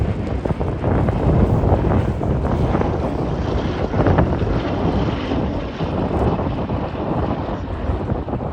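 A propeller warbird airplane drones loudly overhead during an air show flying display, a broad steady roar mixed with wind buffeting on the microphone, no voices.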